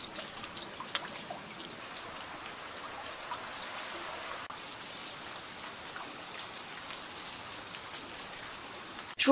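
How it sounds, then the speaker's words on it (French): Steady rain falling outside, a continuous soft patter and hiss of drops on surfaces, even and unbroken throughout with no voices. "il pleut dehors pour changer"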